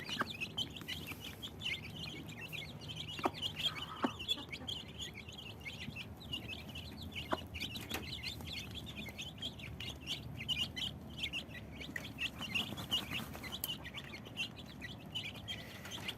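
Small chicks peep in high, rapid chirps throughout, with occasional louder calls over a quiet background.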